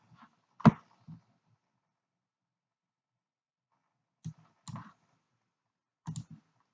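Sparse, crisp computer mouse clicks in a quiet room, a single click followed by a few small clusters of clicks several seconds apart, close and faint against silence.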